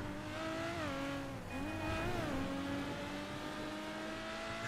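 A sports car in GTA 5 revs and drives hard, its engine climbing and dropping through gear changes in a steady loud drone with no speech over it.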